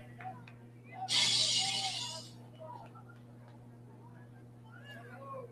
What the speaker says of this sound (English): That was the sound of glass shattering.